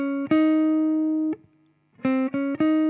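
A guitar string picked with the pick held flat and parallel to it rings out as a thin, sustained note, then after a brief pause three quicker plucks follow, close and clean with no talking.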